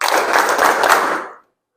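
A classroom group claps hands together on command, a single short burst of many overlapping claps that stops abruptly, loud and close.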